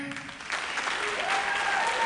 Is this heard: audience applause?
yes